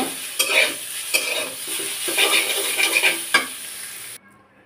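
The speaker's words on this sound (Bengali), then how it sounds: "তেল দিয়ে একটু নেড়ে চেড়ে তারপর শাকটা নামিয়ে নিব।" Red amaranth greens stir-fry in freshly added oil, with a continuous close sizzle broken by several sharp scrapes and clinks of a spatula against the pan before the sound cuts off.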